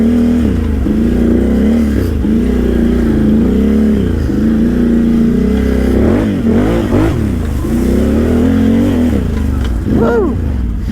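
A Can-Am Outlander 800 ATV engine revs close and loud, its pitch swelling and dropping in repeated throttle surges over a rumbling idle, with a rider's voice breaking in briefly.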